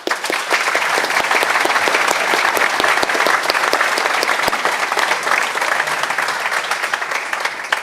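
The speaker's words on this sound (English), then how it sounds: "Big round of applause for yourselves." Sustained applause from an audience filling an indoor stadium function room, dense and steady clapping at close range throughout, with a few scattered cheers and no break in the noise.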